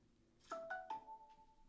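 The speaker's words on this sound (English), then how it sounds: "I figured my phone would go off while I was recording this, of course." A mobile phone's ringtone goes off during an indoor recording, sounding as a few short chiming notes in quick succession, fairly faint and heard alone.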